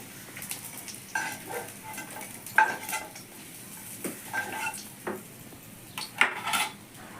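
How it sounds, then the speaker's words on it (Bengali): Fried lentil fritters lifted out of hot oil with a metal slotted spoon, scattered clinks and scrapes against the pan over a faint sizzle, close and intermittent, no voices. "আস্তে আস্তে তেল ছেঁকে বড়াগুলোকে তুলে নিচ্ছি।"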